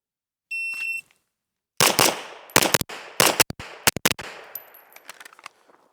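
Handgun shots fired in quick doubles at a small paster on a target during training, sharp loud cracks in tight pairs with brief pauses, preceded by a short electronic timer beep.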